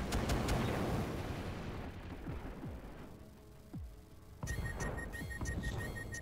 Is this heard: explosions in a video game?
yes